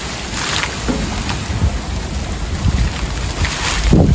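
Strong gusty wind during a thundersleet and hail storm, a loud continuous roar buffeting the microphone, with gusts surging and easing and gritty bursts of sleet and hail hitting nearby.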